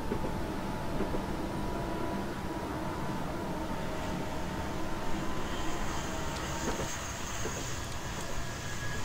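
A continuous broad roar of aircraft noise around an airport in Train Simulator 2016, steady and moderately loud for the whole stretch with a faint rising whine later on, and no talk over it.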